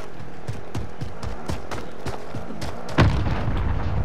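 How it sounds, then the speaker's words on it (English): C4 explosive detonating in Call of Duty: Modern Warfare, a single loud boom near the end, following a run of rapid gunfire-like bursts throughout the gameplay. "that C4 blew up right next to him."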